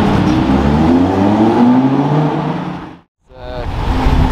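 A Lamborghini Huracan sports car sweeps past close by, its engine note loud and rising then fading as it goes, a brief dip to near quiet, then more engine noise returning; no one speaks.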